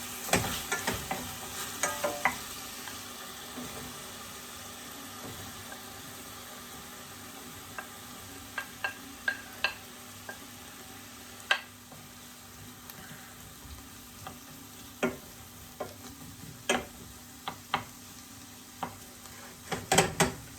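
Bacon and onion fry in a pan for a lasagna sauce, with a steady low sizzle and scattered sharp scrapes and taps of a utensil stirring, close and without talk.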